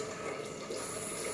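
Water being poured into rice flour for a steamed dish, a steady, close, continuous gushing stream with no talking.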